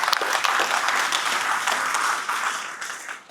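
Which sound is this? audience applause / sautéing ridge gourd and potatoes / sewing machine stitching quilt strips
audience applause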